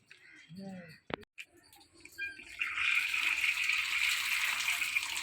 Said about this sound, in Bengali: সকালবেলায় এই দুধ দুধটা একটু ধুয়ে আনি দুধের মধ্যে না এত ময়লা লেগে থাকে দুধের প্যাকেটটা একটু ধুয়ে আনি